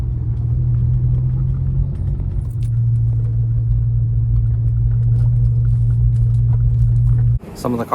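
Cars arriving at a track day with a Porsche 911, heard as a steady, loud low engine rumble and road drone that continues for most of the clip before cutting off abruptly near the end.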